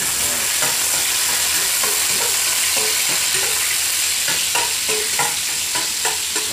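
Garlic sizzles steadily in a hot pan while being stirred, with repeated scraping clinks from a spatula over a constant frying hiss; no voices.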